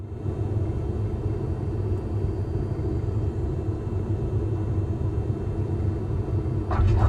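Steady low engine rumble from an airplane coming in to land in Microsoft Flight Simulator, a continuous even drone with a brief higher sound near the end.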